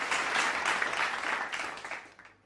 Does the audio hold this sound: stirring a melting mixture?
no